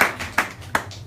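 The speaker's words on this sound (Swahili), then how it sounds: "hebu pigia Bwana makofi makubwa" Congregation at a Bible study and prayer meeting clapping for the Lord; a few sharp, loud hand claps sound in an uneven rhythm across the short moment, over a low hum of the room.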